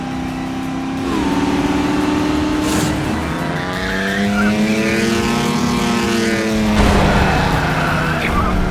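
Racing cars in the game Trails Through Daybreak II, engines whining up and down in pitch as they accelerate and pass, with tire squeals, loud and close, joined by a second rising engine near the end.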